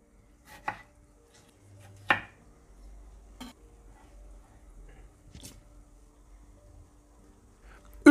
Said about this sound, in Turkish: Küp küp doğrayalım.